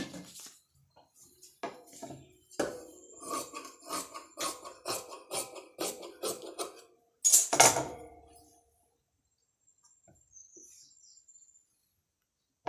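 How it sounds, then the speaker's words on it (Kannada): Scissors snip through blouse fabric in a run of quick, crisp cuts close by, followed by a louder rustle and then near silence. "ಇದು ಸ್ವಲ್ಪ ಈ ರೀತಿ ಬರೋ ರೀತಿ ಕಟ್ಟಿಂಗ್ ಮಾಡ್ಕೋತೀನಿ"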